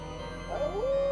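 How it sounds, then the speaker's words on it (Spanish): A giant hound howls as an audiobook sound effect: one mournful, rising wail swells from faint to steady over quiet background hiss and holds its tone to the end. "el triste aullido de algún gigantesco sabueso al cual no podíamos ver ni situar de un modo concreto"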